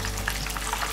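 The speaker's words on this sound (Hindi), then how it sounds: "जो साइड है इसको भी ब्राउन होने तक हम इसी तरह फ्राई कर लेंगे।" Masala fish fries in oil in a pan, a brief, steady and fairly loud crackling sizzle heard up close.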